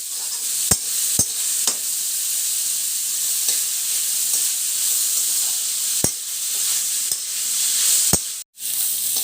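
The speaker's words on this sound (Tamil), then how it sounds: "நல்லா மிக்ஸ் பண்ணி விடுங்க. இது நல்லா வேகட்டும்." Vegetable noodles hiss and sizzle steadily in a hot pan, with a few sharp clicks of a utensil stirring against the metal and a brief break near the end; no voices.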